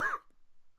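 A single short, sharp cough from a person is heard close up and then quickly fades into near silence.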